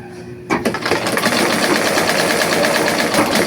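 Sewing machine run without thread, switching into reverse; a dense, continuous mechanical whir that starts suddenly and runs steadily at close range.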